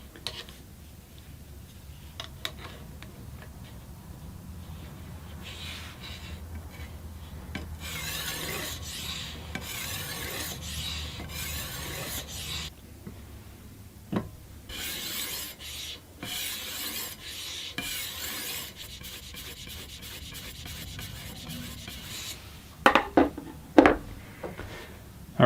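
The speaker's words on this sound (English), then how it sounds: "we'll finish up this blade using the fine grit diamond plate" A knife blade is sharpened on a fine grit diamond plate in a TSPROF Blitz sharpener, making soft repeated rasping strokes in bursts with quieter pauses and a few sharp clicks near the end.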